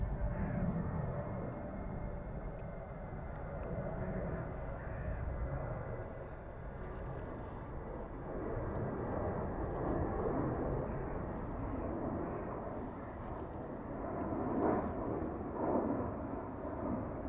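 An Airbus airliner passes over Heathrow Airport with a steady, low, rumbling roar that holds throughout, fairly distant and unbroken by talk.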